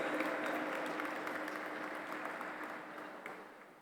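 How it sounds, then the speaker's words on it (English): Audience at the G20 Interfaith Forum welcome session in Pune, India, applauds steadily, a continuous mass of clapping from a hall that fades gradually over a few seconds. "A huge round of applause for Honorable W. Cole Durham Jr."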